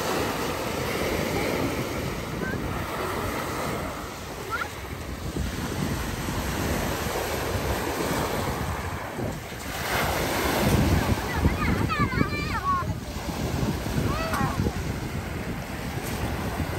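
Waves rolling onto the shore at Manila Bay just after rain, a steady broad wash of surf mixed with wind buffeting the microphone, with faint voices in the background.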